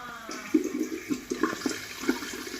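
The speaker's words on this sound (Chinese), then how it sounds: "再排排气儿，听听这里头" Water gurgles and rushes in uneven spurts while air is bled from a newly fitted shower mixer valve and diverter, close and moderately loud.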